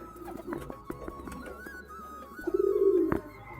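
Pigeons in a loft cooing nearby, soft throaty coos repeating with a louder, longer coo near the end, along with light rustling and scattered clicks.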